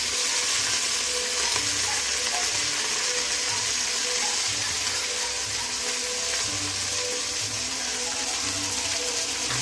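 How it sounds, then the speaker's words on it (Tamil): Chopped mint and coriander sauté in a hot pan for country chicken biryani, giving a loud, steady, unbroken sizzle with faint stirring scrapes close by. "அதையும் நல்லா போட்டு வதக்கிக்கலாம்"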